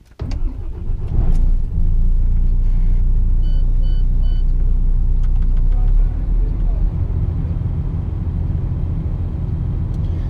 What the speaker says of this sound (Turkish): Arabayı yıkayacağımız için döndürmem gerekiyor.